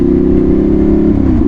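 A Ducati Monster 696 motorcycle engine drones loud and close in a steady low-mid growl, pitch dipping slightly near the end, with no voices.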